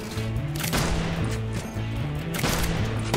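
Sniper rifle shots in the LifeAfter video game, heavy booming blasts spaced a couple of seconds apart over dense game music and rumbling background effects.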